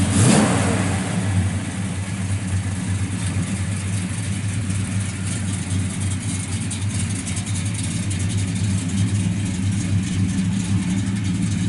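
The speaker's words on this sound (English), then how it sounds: "Sounds real good out the exhaust on this car." A 1967 Chevrolet Chevelle SS 396 V8 engine rumbles and revs through its exhaust, a deep steady roar that holds close and loud for the whole stretch.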